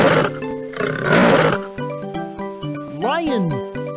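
A lion roars in the Muppet Babies animal-sounds PC game, a stylised roar set over a bright game music backing, with a rising and falling animal call near the end of a four-second stretch.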